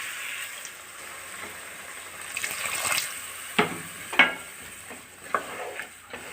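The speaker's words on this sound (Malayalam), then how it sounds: "വെള്ളം ഒഴിച്ചു കൊടുക്കുകയാണേ" Water poured into a simmering pot of mackerel curry with kudampuli, a soft sizzle and bubbling liquid building to a few sharp splashes and stirring clinks near the end, close and moderately loud.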